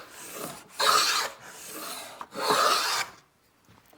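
A Bridge City HP-6FX hand plane cuts a groove in wood with two close, raspy shaving strokes, separated by a short pause, with quiet handling in between.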